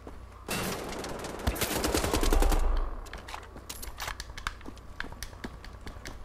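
Rapid automatic gunfire rattles in Wolfenstein: The Old Blood, a loud dense burst of shots followed by scattered sharper single cracks and clatter, close and without speech.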